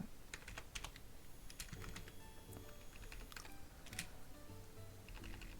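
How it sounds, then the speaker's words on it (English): Rapid, uneven keystrokes on a computer keyboard, close and fairly soft, come in quick bursts with short pauses and no talking, as someone enters a move during a live Pokémon battle. "I'm typing in Shadow Sneak."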